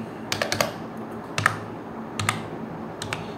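Keys clicking on a computer keyboard in short bursts of a few taps each, separated by brief pauses, close and clear with no voices.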